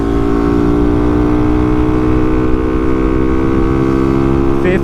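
A Vader 125 motorcycle, a Grom clone, climbs uphill while accelerating through the gears, its engine droning loud and steady throughout with a sustained high-revving tone.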